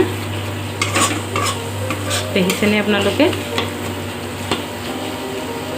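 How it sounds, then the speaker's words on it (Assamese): Spice paste sizzling and frying in oil in a kerai as it is stirred for a parwal curry, with scraping strokes and clinks against the pan over a steady hum, and a voice speaking briefly. "এতিয়া মছলাখিনি মোৰ ভজা হৈ গ'ল"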